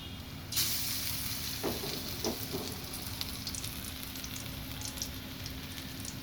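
Lentil and pea pakora batter dropped into hot oil, a soft steady sizzle that flares briefly as each portion goes in, with faint spoon taps, quiet and even.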